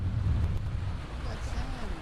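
Steady gusty wind on a beach in Kapaa, Kauai, buffets the microphone with a constant low rumble that swells and eases.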